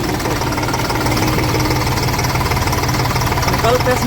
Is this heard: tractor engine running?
yes